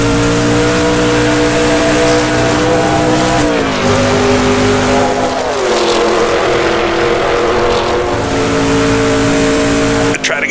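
A 1960s sports car engine in Assetto Corsa roars loudly and continuously as it accelerates along a backstretch, pitch climbing through several gear changes and then cutting off abruptly near the end.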